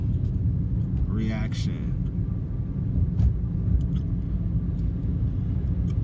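Low, steady road rumble from inside a car moving through traffic, with a brief whoosh of a passing vehicle, while a person talks over it.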